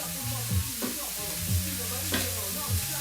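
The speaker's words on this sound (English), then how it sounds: "So we're going to saute these for about 2 minutes." Par-cooked blanched green beans sauté in a hot pan with a steady sizzle, with occasional stirring scrapes and low tonal hum underneath, moderately loud and close, no talking.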